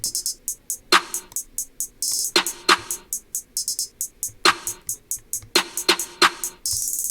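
A trap drum beat with rapid ticking hi-hats running throughout, punctuated by snappier snare-like hits, steady and upfront with no voices.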